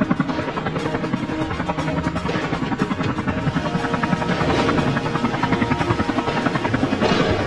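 A cartoon helicopter flies in a loud, continuous, close rotor thrum with rapid rhythmic chopping throughout, growing slightly louder toward the end; no speech.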